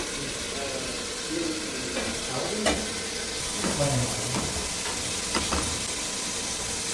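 Goat meat roast frying in a pan, a constant close sizzle broken by several scraping stirs of a spatula through the pieces.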